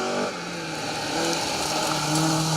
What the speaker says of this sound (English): the Datsun of Alex Waterman and Chris Davies. Datsun 1600 Triple S.